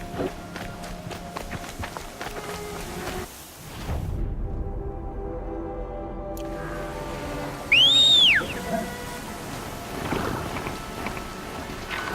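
A thunderstorm in the video game Horizon Zero Dawn: steady rain and rumbling thunder, with footsteps moving through it and a brief whistling tone midway. No one speaks.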